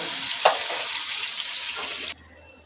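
Onion paste and mustard paste hit hot oil for a koi fish curry, giving a loud, even sizzle close by with a brief spatter burst early on, before cutting off abruptly to near quiet.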